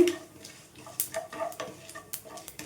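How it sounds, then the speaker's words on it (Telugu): Tempering spices sizzle and crackle in hot oil in a pan, with a steady frying hiss and scattered sharp pops and clinks of a stirring spoon. "మంచిగా వేగాలండి ఇవి మనకి పోపు దినుసులు అయితే."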